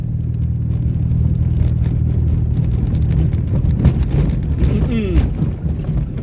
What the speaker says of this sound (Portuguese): Vou apagar o carro